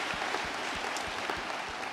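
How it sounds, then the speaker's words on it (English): Audience at a water-sector innovation panel applauding the panelists, fairly faint and steady clapping with a few distinct claps standing out, no speech over it. "Could everybody please give a nice round of applause and appreciation for our"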